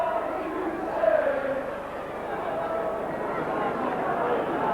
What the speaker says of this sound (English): quite a healthy crowd here this evening.